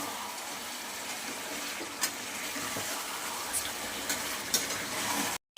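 Chicken curry with fried potatoes is stir-fried in a pan, giving a moderate steady sizzle with a few sharp scraping clicks from the stirring, close and without talk, ending abruptly.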